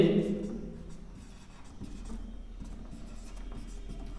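A pen scratches steadily across paper during a Class 10 geometry lesson on a right circular cone, the strokes close and continuous with faint low background hum; a voice talks briefly at the start.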